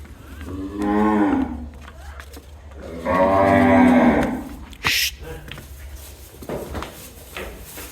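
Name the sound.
cattle mooing in a shed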